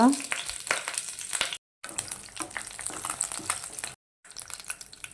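Mustard seeds and curry leaves crackle and sizzle in hot oil in a pan, a steady close frying hiss broken by two brief silent gaps.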